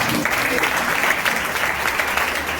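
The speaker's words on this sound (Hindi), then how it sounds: "जोरदार ताली बजाएं" A church congregation claps loudly and steadily during an Easter sermon, a dense, sustained burst of applause filling the room with faint voices mixed in.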